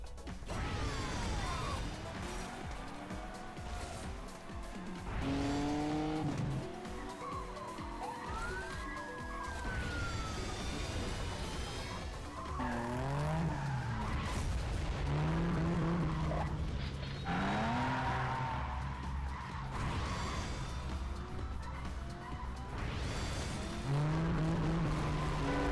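Race cars drift through Canyon Chase in the Nintendo Switch game Cruis'n Blast, with repeated rising tire screeches and skids over a constant loud engine drone.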